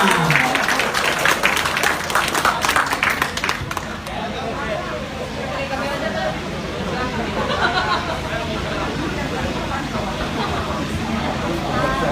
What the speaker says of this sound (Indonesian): Sebelumnya tepuk tangan untuk kita semua.